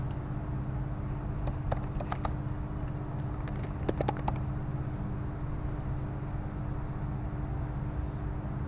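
Email address and password typed on a computer keyboard, a few scattered bursts of sharp key clicks over a steady background hum.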